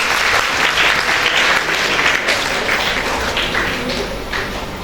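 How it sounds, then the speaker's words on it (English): An audience gives a sustained, dense round of applause at a school recognition ceremony, steady and fairly loud throughout before tapering slightly at the end, with no talking over it. "Let's give him a huge round of applause"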